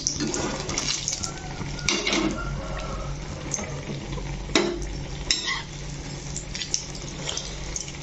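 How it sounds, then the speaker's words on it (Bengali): Bottle gourd fritters coated in gram flour batter deep fry in oil over low heat, a steady close bubbling sizzle that hisses continuously throughout, with a few louder crackling bursts and no voices. "আমি এইভাবেই লাউর বড়াগুলো ভেজে নেব"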